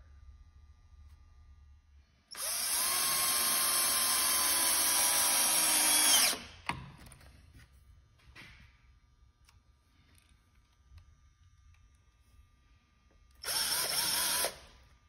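Power drill driving screws into a wooden taper jig: a loud, steady whine for about four seconds, then quiet with small clicks, followed by a second short drill burst near the end.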